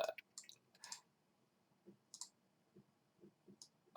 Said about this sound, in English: I should stop clicking on myself.